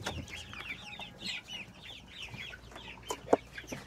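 Darag chickens in coops making rapid, repeated clucks and short calls from several birds at once, moderately close with a quiet farmyard background and no talking.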